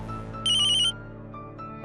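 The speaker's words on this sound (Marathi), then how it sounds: "वहिनींचा फोन आहे" A phone ringtone sounds once, a short bright electronic burst lasting about half a second, loud and close over a low background tone.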